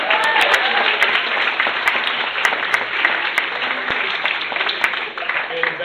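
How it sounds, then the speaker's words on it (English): An audience applauding the Rotary Club on its 100th anniversary at the Elizabeth Forum 2017, with steady, dense clapping that stays loud and even throughout and then eases slightly near the end. "The Rotary Club, celebrating 100 years, give them a big round of applause"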